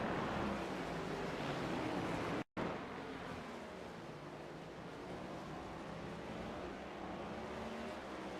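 NextGen Cup race car in iRacing at Red Bull Ring, a steady engine roar building under throttle, loud and continuous apart from one brief dropout, with no voices.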